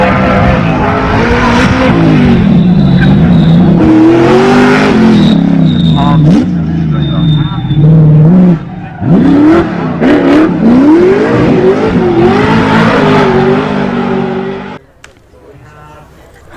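Engine of a 1970s classic car with a swapped V8 revving loudly at a historic rally festival show, a dense, continuous roar with rising and falling pitch sweeps, fading out near the end.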